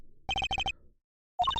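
A cell phone rings in the Apollo Justice: Ace Attorney video game: a bright electronic ringtone in two quick triple bursts, then a short rising melodic tone, clear and isolated with no talking.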